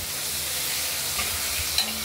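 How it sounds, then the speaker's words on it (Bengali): Potatoes frying in a pan with turmeric and spices for a katla fish curry, a steady soft sizzle with faint stirring scrapes and a small clink near the end, no voices. "মশলা দেওয়া হয়েছে, আলু ভাজা হচ্ছে"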